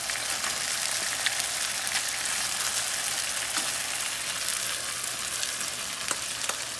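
Basmati rice for saffron chicken tahchin sizzles and fries in a pan, a steady dense crackle at even loudness throughout, with faint stirring taps and no talking.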